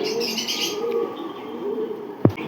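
Fancy pigeons cooing close by in a low, steady purring coo, with faint chirps in the background and a brief sharp knock near the end.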